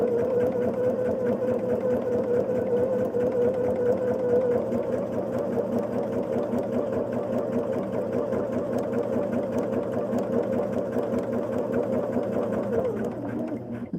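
Sewing machine basting a quilt block at regular stitch length, running continuously close by with an even, humming mechanical drone that holds steady throughout and slows slightly at the end.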